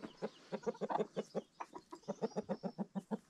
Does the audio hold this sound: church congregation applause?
no